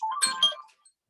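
A mobile phone ringtone chimes out during a board meeting, a short bright melodic burst of a few tones that fades within a second, heard clearly over a quiet room.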